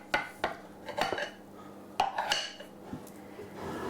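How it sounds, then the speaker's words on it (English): A metal knife clinks and scrapes against a crockery plate in a string of sharp, irregular knocks and short grating strokes, close by. "There's a large noise because of metal knife on a piece of crockery"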